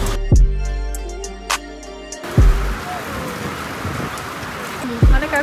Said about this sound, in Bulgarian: Много вали.